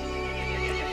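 A horse in the video game Resident Evil Village neighs in a single loud, shrill whinny that rises and wavers for about a second, heard up close with no talking.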